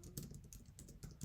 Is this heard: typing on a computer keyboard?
yes